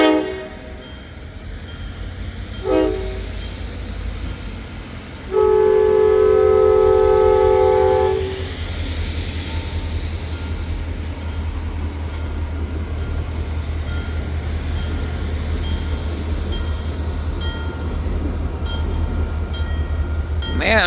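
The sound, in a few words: SD40-2 locomotive train passing and sounding its horn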